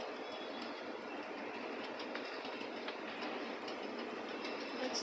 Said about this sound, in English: this metro train is under the ground